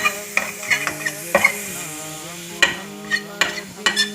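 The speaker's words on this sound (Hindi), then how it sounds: "तो ये गाजरों को हम हल्का हल्का फ्राई कर लेंगे।" Carrots lightly frying in a pan while a spoon stirs them, with brief scraping clicks at irregular intervals over a steady soft sizzle, close and clear with no talking.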